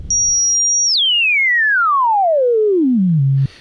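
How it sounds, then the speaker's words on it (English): A pure synthesizer tone holds high, then sweeps smoothly downward in one long continuous filter-cutoff glide before cutting off abruptly, like the 1970s PBS logo theme. "you hear that descending sound"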